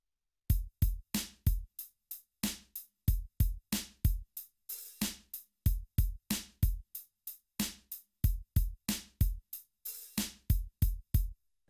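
Hi-hat sounds from a Korg Triton played in a busy drum rhythm, crisp ticks and short open washes alternating with deep kick thumps in a steady repeating groove, close and dry with no voices.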